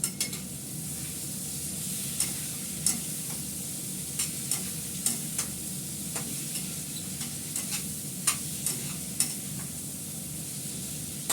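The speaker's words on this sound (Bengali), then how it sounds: "আর একটু কষাবো, কষিয়ে প্রেসারে ঢেলে দেবো।" Curry being browned in a pan sizzles steadily throughout while a spoon scrapes and taps the metal in irregular clicks, close up, with no one speaking.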